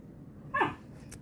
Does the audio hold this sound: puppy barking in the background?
yes